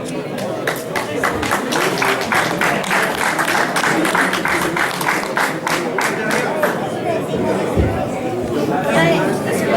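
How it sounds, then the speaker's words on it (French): A crowd at a competition claps for the winners, a dense run of hand claps with lively chatter and voices mixed in, steady and fairly loud throughout. "Voilà, on peut les applaudir."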